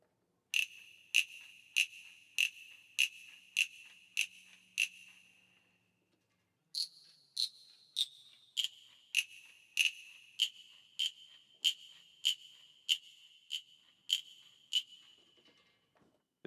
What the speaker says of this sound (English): It's supposed to be the cricket sound.